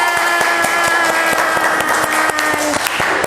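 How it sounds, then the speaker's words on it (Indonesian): A classroom full of people claps steadily, a dense, close burst of applause with no voices rising above it. "Tepuk tangan."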